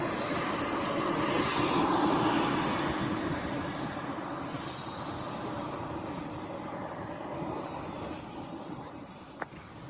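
A 2.2 meter Fury RC airplane in flight: a steady, loud engine roar that swells and shifts in pitch as the plane passes, easing slightly toward the end, with no talking.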